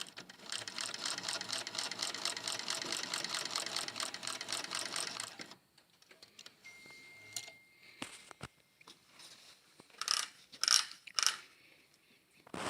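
A THOR GC-1341 walking-foot sewing machine runs a fast, even burst of stitching, its needle clattering rhythmically for about five seconds. Quieter mechanical clicks and handling noises follow.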